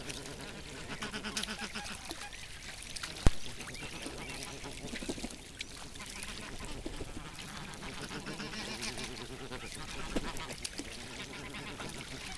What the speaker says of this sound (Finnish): Kyllä on lammella monenlaista elämää. Hanhia, joutsenia ja niin edelleen.